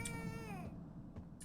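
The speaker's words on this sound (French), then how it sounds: "Un chat." A cat meows in the horror video game The Baby in Yellow, a single clear, fairly loud wavering cry that falls away, followed by quieter game noises.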